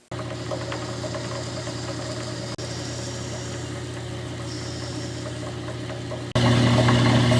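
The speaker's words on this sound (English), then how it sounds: "I'm going to use this 3/8 inch carbide end mill as a boring bar." A metal lathe bores a feed roll spring cap with a 3/8-inch carbide end mill serving as a boring bar, giving a steady, close mechanical hum with a low drone that grows noticeably louder near the end.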